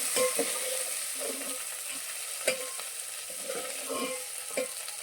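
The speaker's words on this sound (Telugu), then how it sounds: "ఇలా లైట్గా ఫ్రై చేసుకుంటే సరిపోతుంది." Onions fry lightly in a pan for a capsicum masala curry, a steady, quiet sizzle broken by repeated soft scrapes and taps of a stirring spoon, close and without speech.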